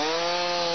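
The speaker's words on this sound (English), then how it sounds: "The buzz of chainsaws roaring through the streets of Fruitport since the storm slammed the village on Sunday." Chainsaws cut through storm-fallen trees on the streets of the village of Fruitport. A loud, steady, unbroken engine buzz runs through the whole clip, with no voices.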